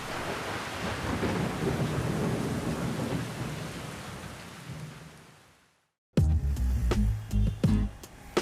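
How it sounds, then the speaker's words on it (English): Heavy rain pours down steadily with rumbling thunder in Italy, a dense roar that fades to silence before a louder close crash of thunder with scattered drips. "the skies open up. And it begins to rain."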